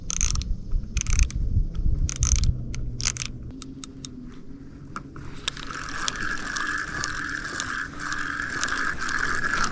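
A fishing reel ratchet clicks in quick bursts as the line is tightened against a pull on the rod, with sharp mechanical clicking close by over outdoor background noise.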